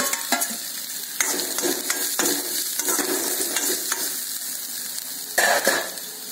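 Curry leaves and grated coconut fry in a pan, giving a bright, steady sizzle with scraping stirs and the occasional clink of a spatula against metal, heard close up with no talking.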